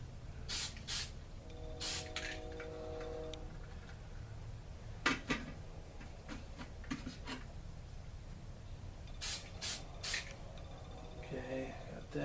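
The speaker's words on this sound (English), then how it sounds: "Flip it over. A light mist of paint on there." Spray paint hissing in short light bursts onto a plastic scale model, several quick mists spaced apart, each a bright brief hiss, with low talking and handling noise in between.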